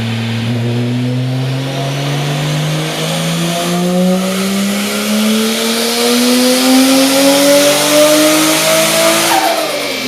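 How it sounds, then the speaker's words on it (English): A loud turbocharged Lexus SC300 engine on a dyno climbs steadily in pitch through one long wide-open pull, then cuts off abruptly near the end, roaring up close. "Well, it's on the dyno, once we start doing pulls again."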